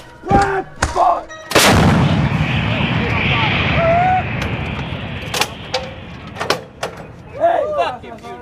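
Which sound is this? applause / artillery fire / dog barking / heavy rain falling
artillery fire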